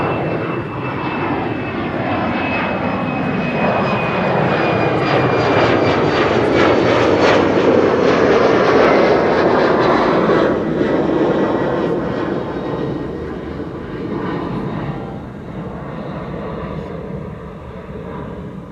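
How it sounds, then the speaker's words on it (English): A LOT airliner departs Schiphol's runway 24 with a steady, loud jet roar that swells and holds, then slowly fades as the aircraft climbs away. A thin descending whine is heard early on. "Now, what a polished departure this is. It is Lot."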